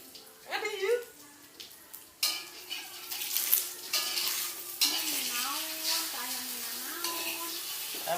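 Food frying and being stirred in a pan at home, with steady sizzling, scraping of a utensil against the pan and occasional clinks, while people talk over it throughout.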